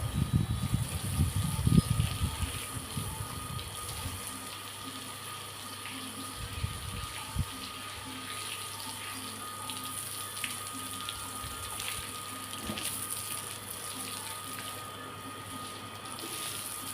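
A household tap runs while clothes are washed by hand. The water flows in a steady, close gush, with louder splashing and clatter in the first few seconds, then a quieter continuous stream.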